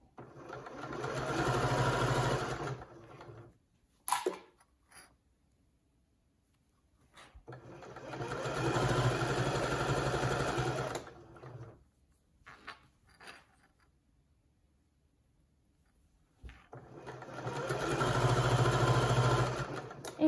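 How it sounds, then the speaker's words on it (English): A sewing machine stitches fabric for an infinity scarf in three long steady runs of motor whir, each several seconds, separated by pauses with small clicks and handling noises; close and moderately loud, with no talk. "you're just going to untuck the fabric that you need to sew as you go"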